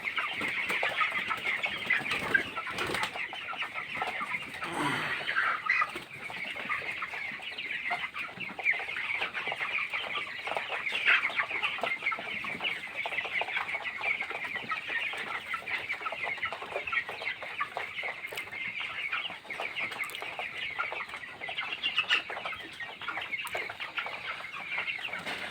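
Many broiler chickens cluck and chirp together inside a poultry farm in winter, making a dense, steady, continuous flock chatter at close range with no one talking.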